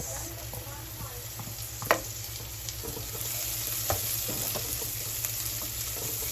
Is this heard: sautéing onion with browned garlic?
yes